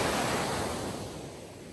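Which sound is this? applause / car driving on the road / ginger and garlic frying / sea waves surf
sea waves surf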